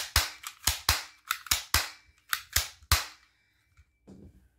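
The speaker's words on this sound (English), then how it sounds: "So it's a spring pistol, so after every shot you gotta do that. You can actually pop off a couple shots pretty fast." Colt .25 ACP spring airsoft pistol fired in a fast series of about ten sharp, loud snapping shots close by, then quieter handling clicks as the firing stops.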